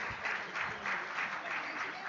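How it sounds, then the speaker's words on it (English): Steady applause from a crowd, a dense wash of clapping hands that holds at an even level throughout. "Please have a round of applause for our judges."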